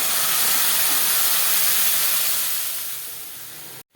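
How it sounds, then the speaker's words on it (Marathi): A loud, steady sizzling hiss as cooked mung dal is poured into hot oil tempering, slowly easing off before cutting out abruptly. "जे मुगाचं वरण शिजून घेतलेलं आहे ते आपण आता या फोडणीमध्ये ओतूया"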